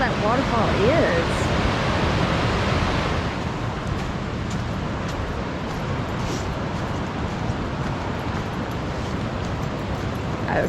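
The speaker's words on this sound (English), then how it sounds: "Wow, you don't realize just how tall that waterfall is." A tall waterfall on the Chattooga River roars as a steady, loud broadband rush, with a hiker's voice briefly heard over it near the start.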